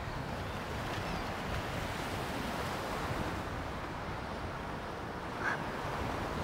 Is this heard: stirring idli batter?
no